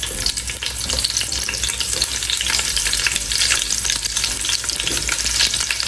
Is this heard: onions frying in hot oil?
yes